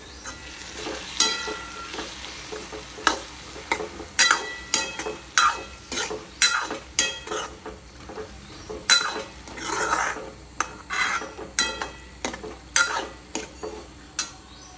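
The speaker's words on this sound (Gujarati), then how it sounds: "હવે આપણે તેની અંદર ટામેટાને એડ કરી દઈશું અને હવે તેને મિક્સ કરી લઈશું" Tomatoes being stirred into a cooking pan: repeated scraping and clinking strokes of a spoon against the metal pan in an irregular rhythm over a faint sizzle, close and clear, with no voices.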